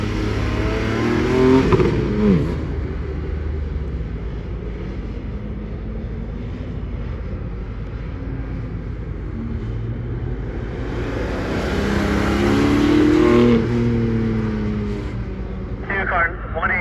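Porsche on an autocross course at PG Stadium: a car engine revs and accelerates for a long stretch, rising and falling in pitch with passing whooshes, while a voice talks over it.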